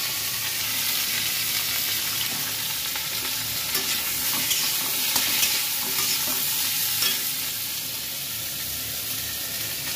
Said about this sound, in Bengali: উচ্ছেগুলো ভেজে নেব, সব সবজি একটু ভেজে নেব।